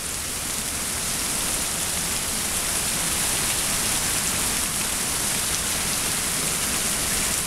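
Heavy rain falling outdoors, a steady dense hiss of drops on surfaces that holds unchanged throughout with no voices.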